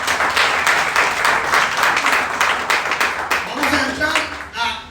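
A church congregation claps its hands in praise, loud and rhythmic at first, then thins out as a voice begins speaking over the last claps.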